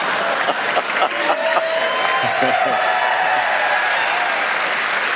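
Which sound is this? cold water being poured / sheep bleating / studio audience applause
studio audience applause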